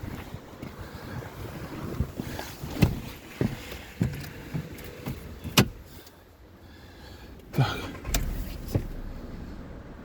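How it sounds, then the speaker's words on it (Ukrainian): A used car imported from Germany starting up and settling into a quiet idle, with a few louder bursts and clicks over a steady low hum and some wind noise on the microphone. "Давайте заведемо."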